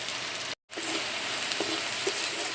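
Tilapia fish curry with chili powder sizzles and fries steadily in a pan while being stirred, a loud continuous crackle broken by one brief dropout, with occasional scraping stirs.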